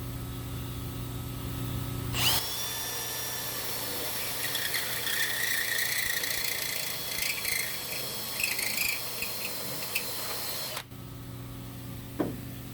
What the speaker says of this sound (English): drill out the entire spot weld itself so you don't have those little nubs that are sticking up